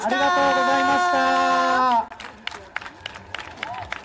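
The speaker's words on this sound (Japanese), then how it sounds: "会場の皆さん、今一度岸壁というか海の花火師さんにも聞こえるよう大きな拍手をお願いいたします。" A crowd at a harbour summer festival claps for the fireworks makers. A sustained tonal sound fills the first half, then scattered, fairly distant applause follows alongside light chatter.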